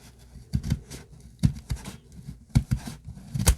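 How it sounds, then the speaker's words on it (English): Scissors snipping through paper for an accordion-style tag book, a run of irregular close crisp cuts and rustles, dry and fairly loud, with no talking. "Scissors might not be the best way to do this."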